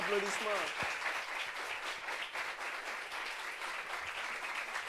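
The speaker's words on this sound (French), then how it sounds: "Applaudissements." Audience applause at a meeting, a soft continuous patter of many hands clapping, with a brief voice at the start before the clapping carries on alone.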